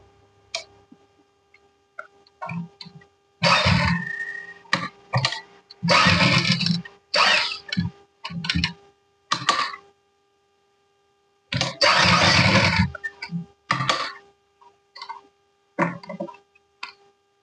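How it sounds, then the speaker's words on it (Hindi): A sewing machine stitches a small bag keychain in loud, close bursts of rapid mechanical whirring separated by short pauses, running in uneven spurts with no speech. "तो चलिए हम इस पे सिलाई लगाते हैं।"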